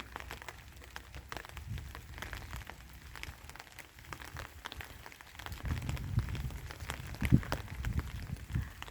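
Autumn rain falling outdoors in a garden, a soft steady patter of drops on surfaces with a few heavier nearby splashes toward the end, no voices.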